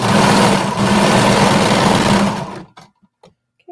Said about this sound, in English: we're just going to sew around that peekaboo curve, making sure not to get the back pieces in it